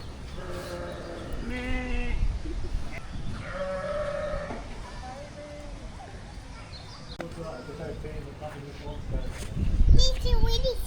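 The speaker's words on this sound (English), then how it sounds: "This one has got some very cute tiny little goats." Several small goats in a petting area at a holiday park bleat with wavering cries, one near the start and another around the middle, with more calls toward the end over steady background chatter and children's voices.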